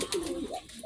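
A domestic pigeon gives a brief, soft, low coo with a gently rising and falling pitch, heard close and alone for under a second.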